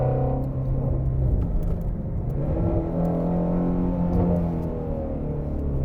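Shelby GT350R sports car driven hard on a winding road, heard from inside as a loud, steady engine drone with rising revs and a rumbling undertone throughout.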